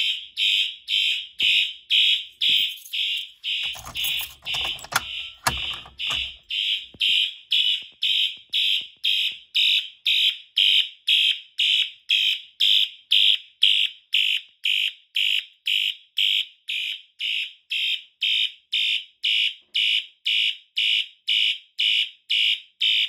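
Wheelock horn strobes going off during a fire alarm system test, sounding a loud, evenly pulsed horn that repeats steadily for the whole stretch, with a short burst of handling noise partway through.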